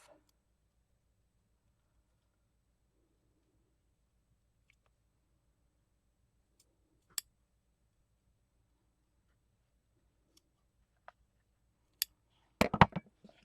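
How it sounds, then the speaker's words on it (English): Scissors snipping a dark crocheted trim, heard as a few isolated faint clicks in near silence and then a short cluster of closer cuts at the end. "So I'm going to go ahead and trim one off."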